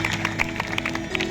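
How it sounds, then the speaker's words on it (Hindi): An audience claps during a staged Krishna and Sudama drama at a Bhagavat katha. Quick, rhythmic hand claps run steadily over a sustained musical drone. "ताली बजाओ ना।"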